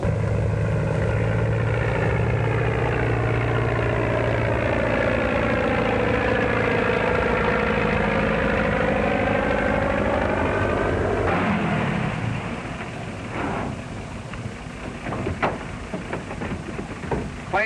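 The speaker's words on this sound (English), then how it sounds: "Plane ready, Bill? Yep, warm and ready to go." A 1930s airplane's propeller engine, warmed up and ready for takeoff, drones steadily and loudly with a shifting pitch for about eleven seconds, then drops to a rougher, quieter running sound.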